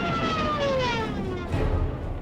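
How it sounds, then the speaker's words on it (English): Wailing sirens of Luftwaffe dive bombers during the attack on Poland, heard as a loud, continuous rush with several sliding, falling siren tones layered over one another, with no voices. "Dive bombers with ear-splitting sirens clear the path for the attack of ground forces."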